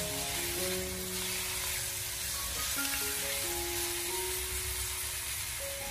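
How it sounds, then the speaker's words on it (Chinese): Blanched white radish stir-fried in a wok over high heat gives a steady, continuous sizzling hiss with a tonal background running underneath throughout. "再立刻的开大火给它翻炒一小会，把它翻炒均匀"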